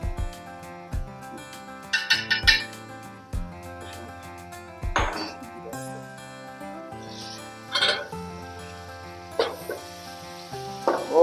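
Oil sizzles in a pan with ginger-garlic paste while a utensil clinks and scrapes against the metal now and then, with a faint tonal hum in the background.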